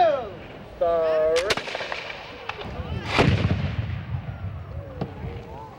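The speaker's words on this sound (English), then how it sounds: "The gun brought up and cocked, and it was ready to fire." A muzzle-loading gun fired at historic Williamsburg, a single sharp blast with a rolling boom and echo trailing off, preceded by brief background sounds.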